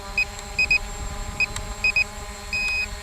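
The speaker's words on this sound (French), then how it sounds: "en même temps il y a le bip de la caméra" Beeps from the camera on an SJRC F11 brushless drone: several short, clear electronic bleeps in pairs and singles, then one longer tone, sounding over a steady background hum.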